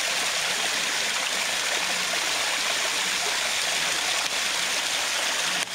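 The small Thanh Long mountain stream at Núi Cấm in An Giang, Vietnam, flows in a low dry-season trickle, giving a steady close rushing hiss with faint gurgles and no voices.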